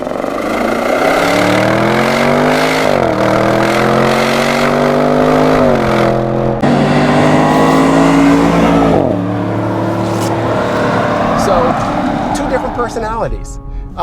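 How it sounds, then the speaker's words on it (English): Cabin view of a 2021 Audi RS6 Avant's exhaust, a steady, muted engine drone rising and falling in pitch through gear changes, loud and continuous throughout, with a voice talking over it. "The exhaust still sounds very good in here, but it is more muted compared to the AMG."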